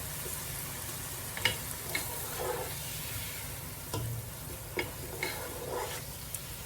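Chili masala frying in hot oil on lowered heat: a steady, moderate sizzle runs throughout, broken every second or so by soft spatula scrapes and stirs, with no voices.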